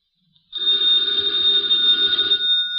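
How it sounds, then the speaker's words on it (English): A telephone bell rings loudly and continuously for over two seconds after a brief silence, a steady bright electric ring with no talking over it. "the ringing of that phone bell means adventure"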